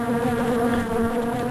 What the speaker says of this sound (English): There's also a bee out here.